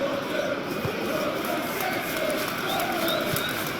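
A stadium crowd in eFootball PES 2020 keeps up a steady roaring cheer before a football match, a broad continuous wash of voices with faint commentary talk beneath.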